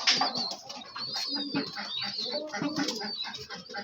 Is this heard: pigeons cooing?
yes